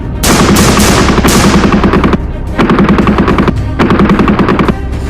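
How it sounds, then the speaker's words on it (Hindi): Sustained loud automatic gunfire in an Indian army action film scene, rapid machine-gun bursts in three long volleys separated by brief gaps, close and dominant with no talk. "साथियों, फायर करो।"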